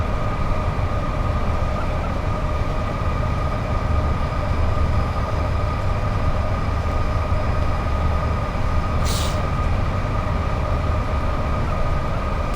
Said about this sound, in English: they're worried about these trains making noise